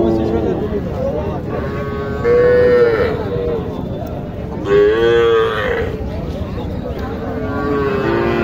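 Cattle low repeatedly in long, deep moos at a livestock market, two loud calls standing out over a busy background of crowd noise.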